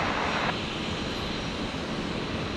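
A Jetstar airliner on a Brisbane airport runway, heard as a loud broadband engine roar that is slightly stronger for the first half second and then holds steady, with no voices.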